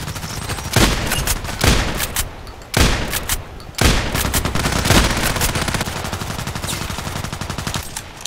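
Rapid bursts of shotgun fire in the shooter game Contract Wars, with loud repeated blasts in clusters and a steady stream of shots between them, close and dense with no talk.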